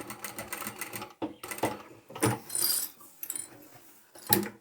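A sewing machine sews along the bottom of a chapstick holder, its rapid mechanical stitching running in short stop-start bursts at close range.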